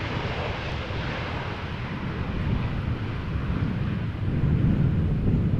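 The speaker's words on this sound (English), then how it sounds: "KLM flight 1228, 737-800" A KLM Boeing 737-800 airliner arriving at Amsterdam Schiphol in crosswind produces a steady low engine rumble mixed with wind buffeting, gradually swelling toward the end.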